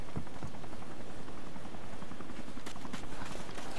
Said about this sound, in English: Alright, I'm going in the chopper.